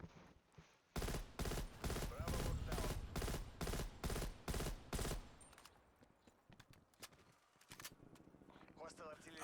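M16 rifle in a video game firing a rapid string of about nine loud, evenly spaced shots, then a quieter stretch of scattered clicks and handling noise.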